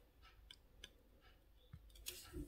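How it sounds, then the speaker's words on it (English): Weaving wire on a wire-wrapped bead pendant is snipped with small cutters, giving a few faint, sharp metallic clicks spaced apart against a quiet background. "Cut that weaving wire there."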